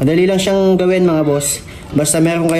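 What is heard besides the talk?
No everyday noises stand out.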